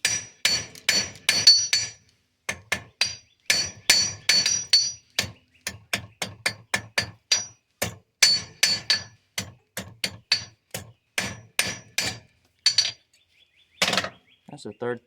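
A hammer strikes a horseshoe nail over and over to flatten it, sharp ringing metal blows in quick irregular runs with brief pauses, close and loud and mostly on its own.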